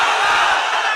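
A large political rally crowd roars a slogan back in answer to a Naara-e-Takbeer call, a loud, dense, sustained wall of massed shouting voices filling the whole moment.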